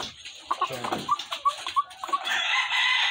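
Layer hens cluck in short, sharp bursts close by, several calls spaced across the moment before a louder rising squawk at the end.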